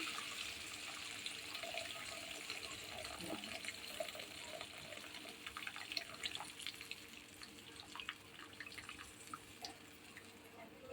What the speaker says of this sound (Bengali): এবার আমি জলটা আস্তে আস্তে ছেঁকে দিয়ে দেবো